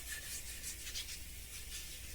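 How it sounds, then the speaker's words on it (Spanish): Wet sanding of carved alabaster stone with 240-grit waterproof sandpaper: a steady, close, soft rubbing hiss with slight rhythmic swells as the paper strokes back and forth, no talk. "Ya hemos acabado de pasar la lija del 240"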